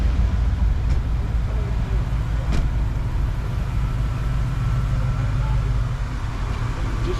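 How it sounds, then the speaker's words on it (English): Cars pulling into a parking lot at a car gathering, with a steady engine and traffic rumble throughout and people talking nearby over the noise. "All right, cars are pulling in."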